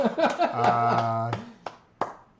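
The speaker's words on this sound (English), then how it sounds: "I was clapping. I was excited for your joke." A drawn-out vocal sound is followed by two sharp, separate hand claps, close and fairly loud, with a brief gap between them.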